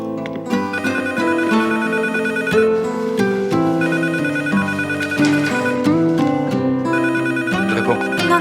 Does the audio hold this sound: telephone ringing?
yes